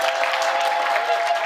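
An audience applauds steadily to vote for a favourite business pitch at a pitch competition, a dense, even wash of clapping filling the short moment with no voices over it.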